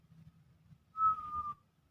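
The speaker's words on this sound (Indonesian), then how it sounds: "Coba Bapak sambil bersiul." A man whistles one short, steady, clear note for about half a second, faint against a quiet room with a low background murmur.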